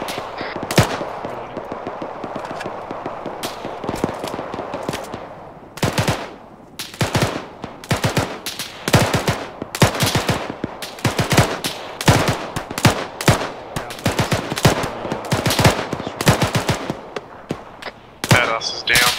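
Light machine guns fire in a video game: rapid automatic bursts and single sharp shots crack out, loud and near, in uneven clusters with brief pauses, and faint talk sits beneath the gunfire.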